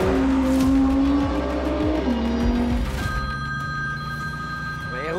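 A telephone rings inside an Audi R8 Performance with a 570 hp engine, a steady electronic tone running through the second half over the car's constant engine drone and road noise.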